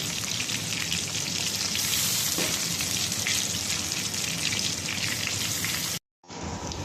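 Rice and lentils frying in a pan with lightly fried onion, a steady, dense crackling sizzle like rain, close and even, cutting out briefly before resuming.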